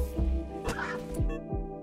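A cartoonish duck in a video game quacks several times in quick succession, a series of short nasal honks, fairly loud and close, with no talking over it.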